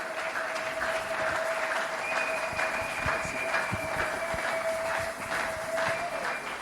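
A church congregation applauding to welcome a preacher, sustained dense clapping from many hands with a faint tonal hum running underneath.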